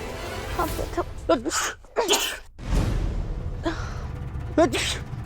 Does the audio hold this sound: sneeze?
yes